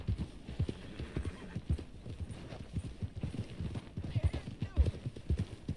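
Steady clip-clop of horse hooves with occasional whinnies in Red Dead Redemption 2, moderately loud and rhythmic, in a game setting.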